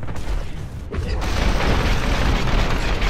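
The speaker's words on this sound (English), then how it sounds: "he's exploded" An enemy blows up in the VR shooter Hell Sweeper, a sudden loud burst that swells into a sustained roaring rumble and debris wash lasting several seconds.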